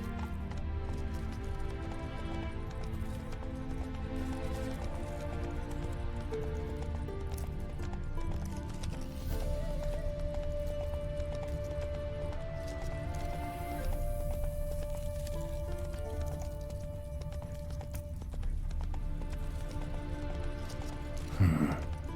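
A horse gallops with steady clip-clop hoofbeats in The Witcher 3: Wild Hunt, running continuously under a bed of in-game music.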